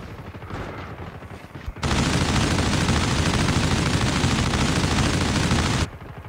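Sustained automatic gunfire in the mobile shooter Call of Duty Mobile, a loud continuous burst of about four seconds after a short quieter stretch, then stopping abruptly.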